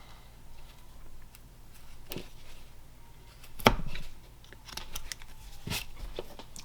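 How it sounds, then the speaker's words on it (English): A carving knife shaves wood from a small hand-carved bear figure, giving sparse, crisp scraping cuts and one sharper snap, close and quiet against a soft room background. "I'll just remove a bit more wood in the back now. Trimming it."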